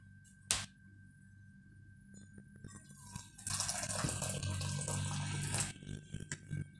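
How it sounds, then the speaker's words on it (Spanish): Boiling water is poured into a container for melting chocolate over steam in a pastry class, heard as a steady splashing gush of about two seconds after some faint clatter, fairly close and with no talk. "En un recipiente vamos a colocar agua hirviendo"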